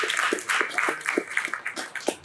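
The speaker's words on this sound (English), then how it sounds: "Round of applause for Evan." Audience applause for a presenter at a creative community event, a steady wash of many hands clapping with scattered louder claps, moderately close and filling the room.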